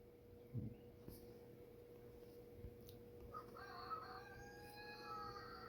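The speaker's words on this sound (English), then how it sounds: "There goes the rooster again." A rooster crows at a distance, the call rising and wavering for a few seconds in the latter half, faint beneath steady low room hum with a soft thump or two earlier.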